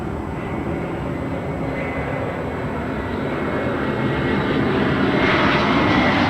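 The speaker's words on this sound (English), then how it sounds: "This is Delta Airlines 2089 coming in from Minneapolis." Delta Airlines Airbus A321 arriving at LAX from Minneapolis, a steady broad jet roar that swells gradually and grows louder toward the end, with no voices over it.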